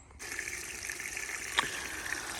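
Water rushes steadily through a yard drainage system during a water test, a continuous close gushing with a brief splash partway through and no talk.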